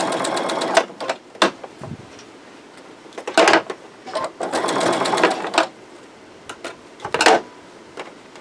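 Sewing machine stitching a straight seam on a sunflower cushion, close and loud bursts of rapid mechanical chatter separated by short pauses, no talking.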